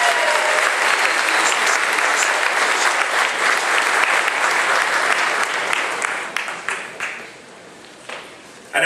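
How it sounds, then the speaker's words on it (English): A rally crowd in Manchester, New Hampshire applauds and cheers for Donald Trump in a loud, dense wave that holds steady, then breaks into scattered claps and trails off, with a brief burst returning at the very end. "I hope you join me in cheering for Mr. Trump"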